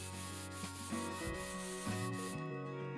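Steady rubbing and scrubbing of a rear car seat in the video game Car Detail Simulator, a continuous close scraping texture over sustained background game music that drops away near the end.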